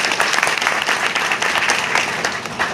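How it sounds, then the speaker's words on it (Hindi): A crowd at a local ward development event in Faridpur applauds, dense continuous clapping from many hands filling the whole stretch at an even, moderately loud level with no voices on top. "तो उनके लिए भी तालियां तो बनती हैं।"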